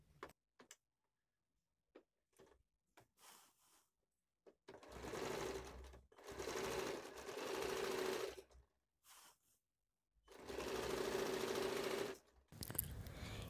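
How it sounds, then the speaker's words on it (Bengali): A sewing machine runs in several bursts while stitching fabric for a semi-Patiyala salwar, with steady mechanical whirring and ticking between quiet pauses and faint handling clicks. "এবার আমি উপরের দিক থেকে আরেকটা সেলাই করব ঠিক এই জায়গা থেকে।"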